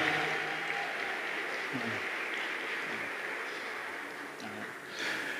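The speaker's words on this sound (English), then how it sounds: "Let's give them a round of applause." A standing room of guests at a Barristers' Ball applauds the chapter board in a steady, continuous wash of clapping that holds for several seconds and thins slightly near the end.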